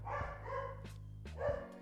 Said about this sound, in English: My dog doesn't agree with him. That's why he's barking so aggressively.